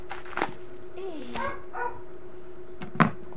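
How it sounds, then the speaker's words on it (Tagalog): A neighbor's dog barks a few times at a distance, short sharp yips spread across the moment, over a quiet background with a steady hum. "may aso pa sa kapitbahay"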